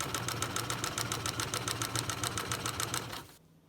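A sewing machine runs steadily, stitching fabric with Warm Window insulated backing for a Roman shade, its rapid needle clatter pulsing evenly and close up for over three seconds before stopping abruptly.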